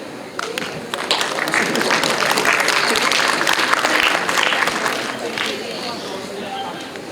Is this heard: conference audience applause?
yes